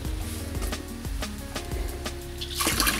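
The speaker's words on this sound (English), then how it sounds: "Let's see if it's actually wine that comes out of the tap." Water runs from an outdoor tap on a walk near vineyards in Germany, a steady splashing gush with some gurgling, growing louder and more turbulent toward the end.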